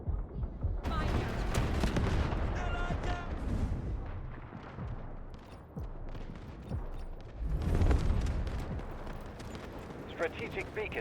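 A turret or anti-aircraft gun in a video game pounds away in heavy, booming bursts, loud near the start and again later, with voices talking amid the fire.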